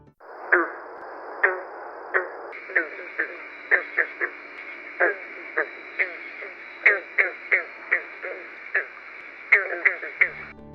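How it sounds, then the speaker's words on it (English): Green tree frog, also called bronze frog, giving a run of sharp banjo-like plucked notes, some twenty twangs at an uneven steady pace, close and clear over a faint background hum. "you'll know this frog is around when you hear its banjo-plucking call"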